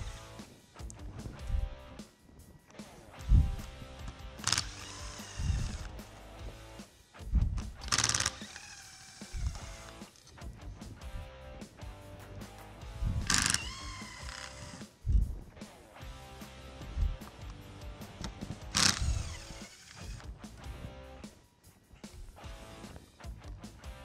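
Small bolts removed with a T30 Torx bit from a 6.0L Powerstroke oil cooler housing: scattered faint metallic clicks and ratcheting bursts, several separate sharp taps over a quiet background.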